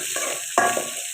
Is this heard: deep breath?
no